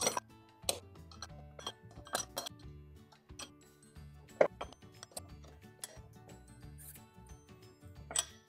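Metal lug nuts on a golf cart wheel being refitted after a flat tire repair, giving sparse, sharp, close clinks and ticks at irregular intervals against quiet background.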